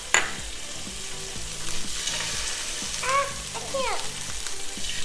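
Chicken dropped into hot oil sizzles and pops loudly and continuously, with a child and an adult talking over the frying.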